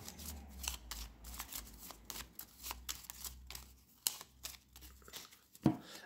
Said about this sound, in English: We'll shuffle up.